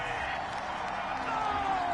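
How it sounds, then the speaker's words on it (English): Stadium crowd at an American football game reacting unhappily to a penalty flag on third down, a broad sustained roar of displeasure, distant and steady, with a commentator's voice over it. "Well, the crowd doesn't like that."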